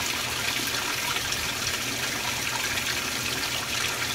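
A 2017 Speed Queen washing machine on its first rinse with jeans inside, water gushing and flowing steadily and loudly throughout, close up with no voices.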